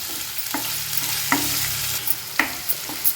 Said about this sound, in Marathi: आता आपण बारीक चिरलेला एक छोटा कांदा ॲड करूया कांदा छान शिजवून घ्यायचा आहे आपल्याला